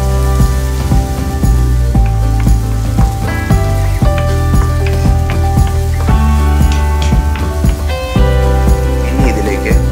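Two cups of finely diced onions hiss and crackle in hot coconut oil, a steady bright sizzle running throughout beneath a loud melodic music track.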